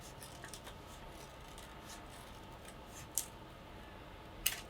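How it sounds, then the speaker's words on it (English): Scissors cutting through two layers of black paper at once: faint, close snips and rustles, with two sharper cuts standing out, no voices. "I'm going to cut both pieces at the same time. So I'm cutting around my lines"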